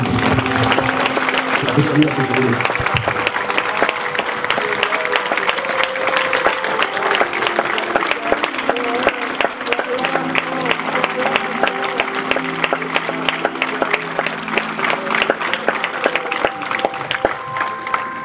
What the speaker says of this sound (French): Applaudissez votre Seigneur, applaudissez celui qui est